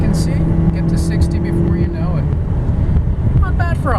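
A 2008 Ford Escape Hybrid 4x4 climbing a hill at high throttle with the AC on, its steady engine drone sitting under heavy road and wind noise inside the cabin, with faint brief chirps near the end.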